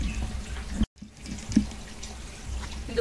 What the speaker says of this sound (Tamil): மேலே உச்சியிலேருந்து கீழே பாருங்க தண்ணி எப்படி தீர்த்தம் அழிஞ்சு வருது பாருங்க